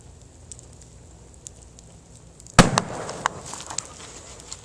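Bamboo poppers bursting in a wood fire of huge sycamore logs: after a quiet crackling stretch, one loud sharp bang erupts, followed by scattered smaller pops and sustained crackle close by.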